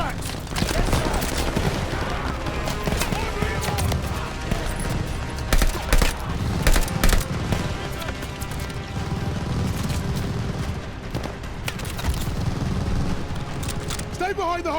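Machine gun fire in the Call of Duty Vanguard campaign, dense and continuous across a chaotic battlefield with booming impacts and shouted voices mixed throughout.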